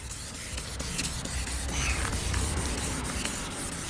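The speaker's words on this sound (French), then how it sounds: "on va passer au ponçage" Wet sanding a car headlight lens by hand, a steady continuous scratchy rubbing with rhythmic strokes, close and fairly loud throughout.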